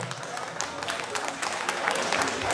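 Audience applause at a graduation ball in Mannheim, a steady wash of clapping from a crowd, fairly even throughout with slight swells, with some voices mixed in.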